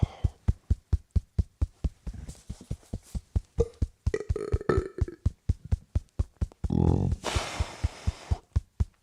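Burps rise over a steady run of quick, even taps from EFT tapping; a louder, longer burp stands out near the end, close and clear, with no talking.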